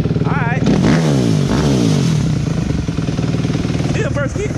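A 2003 Yamaha Banshee two-stroke engine is kicked over and revved up close, its rising and falling pitch sweeps loud and continuous, with people talking over it.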